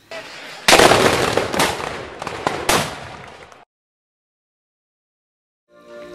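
Nineteenth-century rifled field cannons fire in a rough volley, with loud booming blasts and crackling explosions over a few seconds, then sudden silence.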